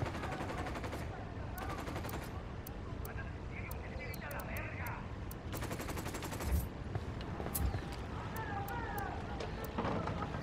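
Automatic gunfire crackles in Ghost Recon Wildlands, repeated bursts of rapid shots at a distance over a rumbling battlefield bed, with a couple of louder nearby cracks toward the middle.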